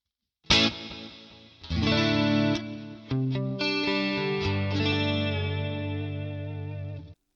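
Electric guitar played clean through a Boss Katana amp with stereo pan delay and an 80s Rockman-style tone; shimmering chords and single notes ring out with bouncing repeats and long sustained decay, alone and up close.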